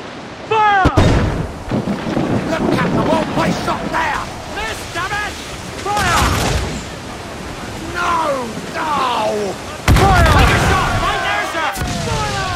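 Ship cannons boom in heavy volleys during a naval battle in Assassin's Creed IV Black Flag, loud blasts over surging sea noise while crew members shout orders throughout.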